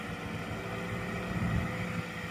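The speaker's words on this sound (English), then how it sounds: "First time driving the tractor." Tractor engine running steadily nearby, a continuous low rumbling drone with some wind buffeting the microphone, fairly quiet and without any voices.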